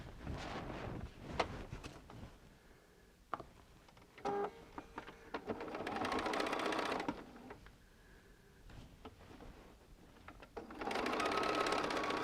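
Sewing machine stitching together the pieces of a poinsettia quilt block, running in short bursts of rapid mechanical stitching separated by pauses and small clicks.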